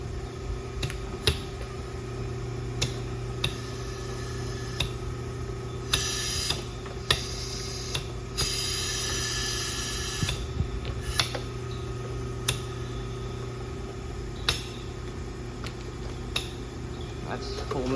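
Mitzi animatronic running a full movement test: sharp pneumatic clicks and ticks from its valves recur irregularly over a steady mechanical hum, with a few short hissing bursts of air in between.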